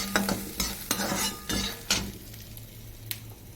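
Chopped ginger fries in a pan for upma, making a soft sizzle broken by several sharp stirring scrapes and clinks of a spoon against the pan.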